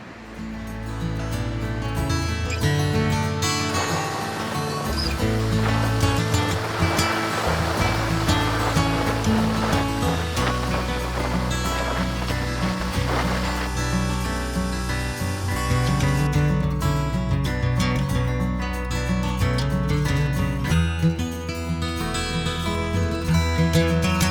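Choppy sea waves break continuously on the Welsh coast, a loud, dense, unbroken wash of surf close by with no voices.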